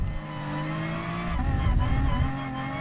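A BMW M4 Gr.4 race car in Gran Turismo drones steadily near, its engine pitch holding and then shifting, with tire squeal and a rougher surge partway through.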